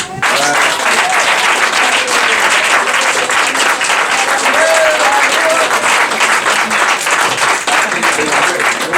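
Steady, loud applause from a ceremony audience at a tribute event on the river, dense crowd clapping that holds evenly throughout without letting up.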